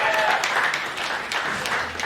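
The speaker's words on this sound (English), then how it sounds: "Everyone give a round of applause." Audience applause at a Leicester Comedy Festival stand-up show, a steady dense wash of clapping from a crowd greeting performers' entrance, sustained and fairly loud throughout.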